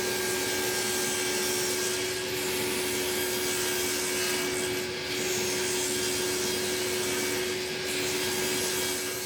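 A power saw runs continuously, cutting oak pieces to width and rough thickness; the steady, loud motor drone and cutting noise fill the whole stretch, with slight dips in the middle.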